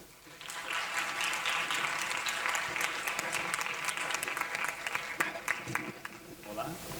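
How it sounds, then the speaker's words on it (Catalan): Audience applause at the Inspiracy Lleida 2026 event, a dense round of clapping that starts quickly, holds steady for several seconds at moderate distance, then thins out toward the end. "Un aplaudiment"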